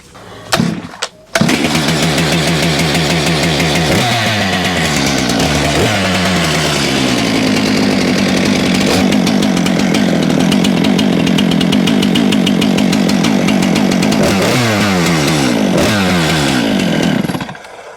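A chainsaw is pulled into life after a couple of sharp starts, then runs continuously at a loud, close idle and rev during an oiler check, with brief throttle changes before it cuts off at the end.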